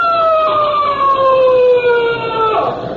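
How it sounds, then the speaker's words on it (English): A police siren from a radio drama wails in long descending sweeps, loud and close, sliding steadily downward in pitch as it draws near and passes, with no voices over it. "Hey, that's a police siren."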